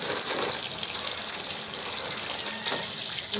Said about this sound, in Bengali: নতুন আলুগুলো এত বালি কিচকিচ করছে ধুয়ে রাখবো